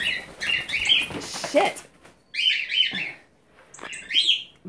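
Pet cockatiels and a wild red cardinal flap and chirp inside a cage, sharp tweets and wingbeat flurries coming in three bursts close to the microphone, with someone speaking briefly between them.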